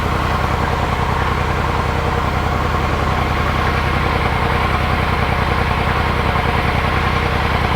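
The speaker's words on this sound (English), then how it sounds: "It just doesn't sound right. It almost sounds like it's missing on a cylinder." A Triumph Tiger 800XC motorcycle engine idles roughly at close range, a steady low throb with an uneven pulse that hints at a misfiring cylinder, running continuously with no talk.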